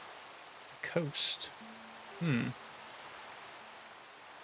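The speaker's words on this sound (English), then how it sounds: "I love the rain normally, but in Minecraft, I feel like I can't hear anything else." Steady rain falls in the video game Minecraft, a soft continuous hiss across the whole stretch, heard under brief spoken words and a few short game tones.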